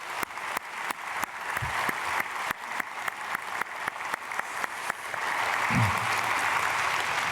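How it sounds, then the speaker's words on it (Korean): A church congregation at a Thanksgiving Sunday service applauds to welcome new members, a moderate wash of clapping in a large hall with sharp rhythmic taps over it and a brief low voice. "박수로 환영하겠습니다."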